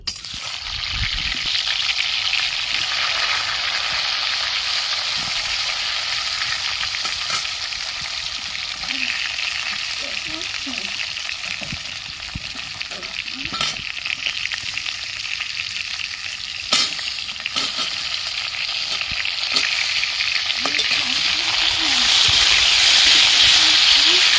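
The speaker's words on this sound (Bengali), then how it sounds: "কড়াই তেল গরম হয়ে গেছে পটলগুলো আমি ভেজে নিচ্ছি" Pointed gourd pieces fry in hot oil in a wok, giving a continuous close sizzle and hiss with light stirring scrapes, growing a little louder toward the end.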